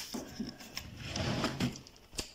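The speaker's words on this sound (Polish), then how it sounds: "Zajrzyjmy może do mojej klockowej szufladki." A drawer full of LEGO bricks slides open, with soft wooden scrapes, small knocks and light plastic rattles of loose pieces, quiet and close, ending in a sharp click.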